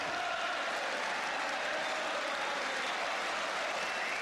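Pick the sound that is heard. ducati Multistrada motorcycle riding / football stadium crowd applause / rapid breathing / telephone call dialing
football stadium crowd applause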